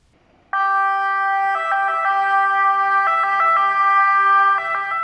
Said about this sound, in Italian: Nel silenzio di vie e piazze vuote risuona con maggiore intensità la sirena dell'ambulanza